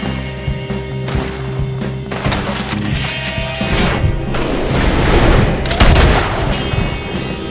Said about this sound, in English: I'm gonna shoot you off that rock!